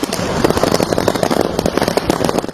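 Rapid, loud bursts and crackles of fireworks going off nonstop from a trailer full of fireworks wrecked on a highway after a tractor-trailer crash, densely layered pops with no pause.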